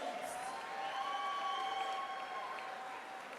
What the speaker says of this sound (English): how about a nice round of applause once again for Lucretia Meacham and Alexandra Marchuk